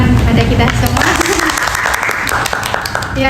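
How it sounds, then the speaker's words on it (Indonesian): Audience applause fills a school panel discussion hall at the close of the session, a dense, steady clapping that stays loud for several seconds with a voice speaking over it. "Iya, berikan tepuk tangan pada kita semua."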